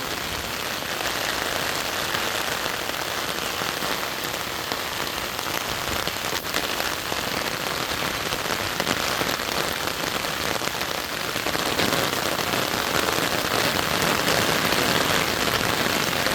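Steady rain pours down in a village in the Padma region, a dense, even hiss of drops striking surfaces close by, continuing without a break.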